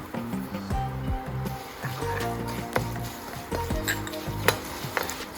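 Curry leaves sautéing in oil with turmeric and salt for a Diwali chivda, a steady close sizzle and frying crackle with occasional spoon stirs and scrapes against the pan, heard alone.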